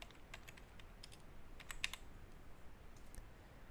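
Keys tapped on a computer keyboard while entering a password during a WordPress install, a quick run of light, close clicks in short bursts over a quiet background.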